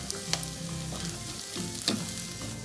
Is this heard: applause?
no